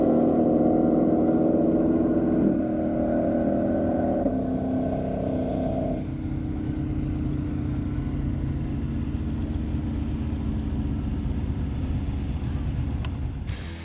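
Twin-turbo Shelby GT500 on a half-mile run, its engine loud and rising through gear changes, then settling into a sustained roar that carries to the end.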